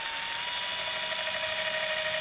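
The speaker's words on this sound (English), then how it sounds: "I'm going to start by drilling a deep hole with a thin drill bit." Drill boring a deep hole into wood with a thin bit for a garden basket, a steady high-pitched whine held continuously and close for the whole stretch.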